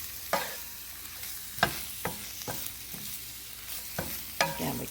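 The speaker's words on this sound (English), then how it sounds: "You can already see some of that spinach wilting as we're moving it around in the pan." Spinach is stirred around a frying pan as it wilts, with soft sizzling and about half a dozen distinct scraping pushes of the spatula, close up, with no voices.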